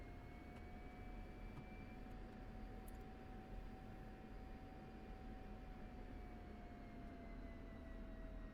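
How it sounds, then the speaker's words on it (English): F-16C fighter jet taxiing toward the runway in the DCS flight simulator, a steady, even engine whine and broad roar holding constant throughout, with no speech. "I'll go ahead and taxi on over to the runway."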